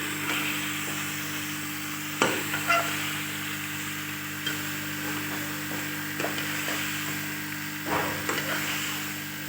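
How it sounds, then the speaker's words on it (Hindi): Chicken frying in a karahi gives a steady broadband sizzle throughout, with a few sharper clinks and scrapes of stirring near the start and end, close by and without talk. "इधर आ जाए इस कढ़ाई की तरफ, और ये देखिए ये हो रही है हमारी चिकन फ्राई।"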